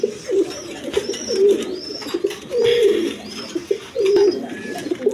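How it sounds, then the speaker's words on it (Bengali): A pair of black Dauga pigeons coo in repeated low, throaty phrases close by, several rolling calls one after another with short pauses and no voices. "এখানে এক পেয়ার ডাউগা কবুতর আছে"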